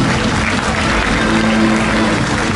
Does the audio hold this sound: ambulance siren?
no